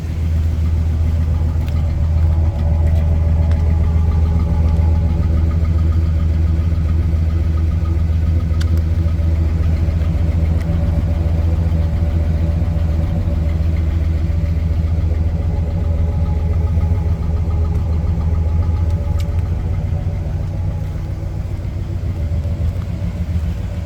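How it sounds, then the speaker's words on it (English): Exhaust of a numbers-matching 1967 Pontiac GTO hardtop with its 400 V8 idling steadily, a deep, even low rumble held close and loud throughout with no speech. "See if we can get a sound for exhaust."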